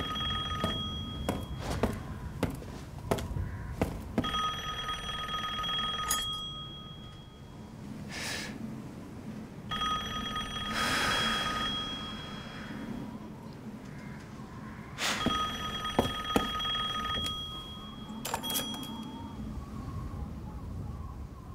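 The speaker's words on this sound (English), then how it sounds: "Phone ringing." Telephone in the video game Resident Evil Village rings in repeated bursts with short pauses between them, loud and clear over eerie ambient game sound.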